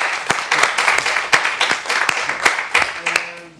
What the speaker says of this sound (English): Don't clap yet.